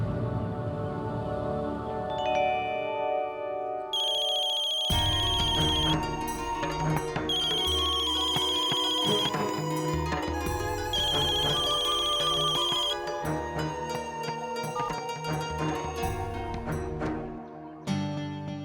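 A phone ringtone plays a looping electronic melody for the whole stretch, steady, loud and close, with a high chiming tone that repeats and no talking over it.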